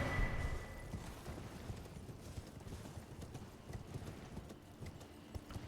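Horse hooves clip-clop at a steady trotting pace in Elden Ring, fairly faint and continuous under a low ambient wash, with a slightly louder burst at the start.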